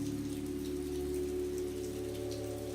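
Steady, soft rainfall patters continuously on leaves and surfaces, an even hiss with faint droplet ticks, no voices present.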